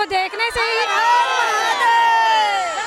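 A large crowd of devotees presses together in Raipur to see the storyteller Pandit Pradeep Mishra, a dense, loud babble of many voices and shouts filling the space, with someone speaking over the din.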